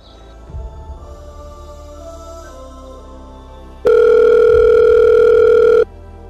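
Telephone dial tone heard while a call is placed, a loud, steady electronic tone holding for about two seconds after a quiet stretch of low background sound.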